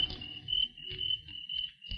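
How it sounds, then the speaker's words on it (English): A couple of crickets chirping outside on a quiet night, a steady high-pitched trill running throughout over low rumbling background noise. "There were a couple of crickets outside."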